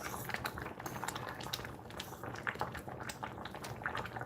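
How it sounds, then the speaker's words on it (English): Thick tomato sauce gurgles and bubbles steadily in a pan, a close, continuous wet simmer with irregular popping bursts throughout. "once you get this sauce nice and gurgling like this"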